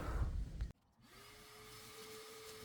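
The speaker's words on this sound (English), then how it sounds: "So I'm gonna go ahead and get this vacuumed out" Vacuum cleaner used on a car interior: loud rough suction noise cuts off abruptly, then after a brief pause a motor spins up to a steady whirring hum with a rising whine, close with no speech.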